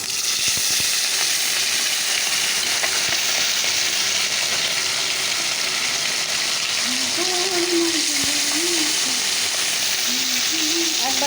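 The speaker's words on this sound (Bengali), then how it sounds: "চলো এবার মাছগুলোকে ভেজে নেই এনেছে ট্যাংরা মাছ" Tangra fish frying in hot oil, giving a loud, steady, unbroken sizzle that fills the whole stretch, with faint whistly tones rising near the end.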